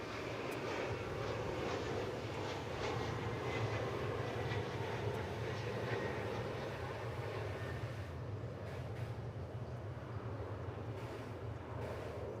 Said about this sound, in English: we'll take a look at Flight 3506, American Eagle, coming from Evansville, Indiana, aboard an Embraer